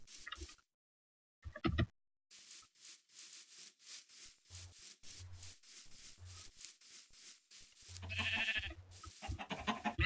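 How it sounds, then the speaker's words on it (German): Sheep bleating in Minecraft, a black sheep among them, with short repeated blocky bleats over rustling footsteps through grass and brief game sounds, close and moderately loud, no talking. "So ein schwarzes Schaf."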